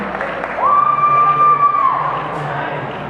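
Crowd cheering in an arena at a VEX robotics world championship in Kentucky, a sustained roar of voices with a steady electronic tone running through it, moderately loud and continuous.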